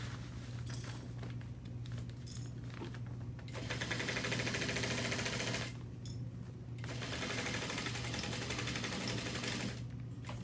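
A sewing machine stitching a large fabric bag runs in steady mechanical whirring bursts, pausing briefly between runs and then starting up again, close and moderately loud with no talking.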